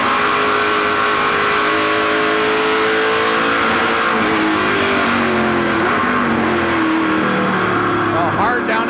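Onboard the Rockstar Snap-on number 3 race car driven by Jason Hathaway in the 2010 Canadian Tire 100, the engine roars loud and continuous, its pitch climbing and dropping through gear changes, with a race commentator talking over it.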